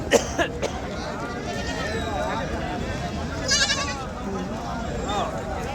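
Goats bleat repeatedly amid a busy outdoor crowd at a Saturday goat market in Macherla, several wavering cries rising over steady background chatter.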